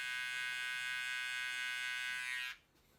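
Electric hair clippers hum steadily while cutting a taper for a mohawk haircut, a close, bright buzz that holds level and then cuts off near the end.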